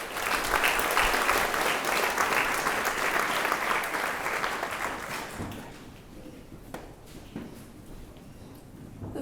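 School awards ceremony audience applauding award-winning students, loud dense clapping for about five seconds that tapers off into a few scattered claps and quiet room noise.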